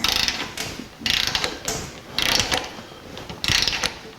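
Ratchet wrench tightening a frame bolt on a 1984 Jeep CJ7, heard as bursts of rapid, close clicking in several separate pulls with short pauses between them.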